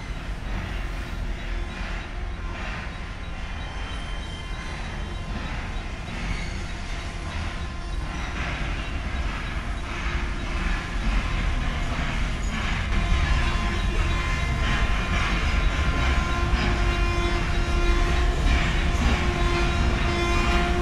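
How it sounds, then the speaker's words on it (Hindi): A Tejas Rajdhani express train passes close by, a loud, continuous rumble of wheels and carriages that builds slightly over about twenty seconds, with a steady tone running underneath and no talking. "ये कौन सी तेजस है जो यहाँ से क्रॉस कर रही है इस समय पर"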